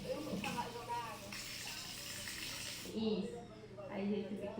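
Water poured in a steady rushing hiss that fades partway through, with a person speaking Portuguese over and after it.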